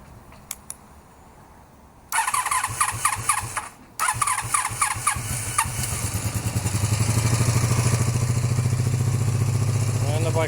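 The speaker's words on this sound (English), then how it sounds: "And the bike starts up." A home-built cafe racer motorcycle cranks briefly, then fires and starts, settling into a steady, close, somewhat raised idle with a rhythmic engine pulse and no talk over it.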